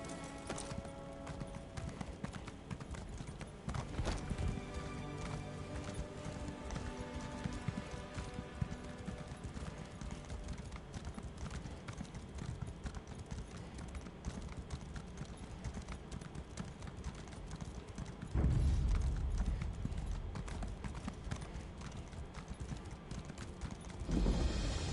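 Steady clip-clop of horse hooves at a trot in Elder Scrolls Online, Morrowind, continuous and fairly close, with background music playing throughout and a brief louder burst near the end.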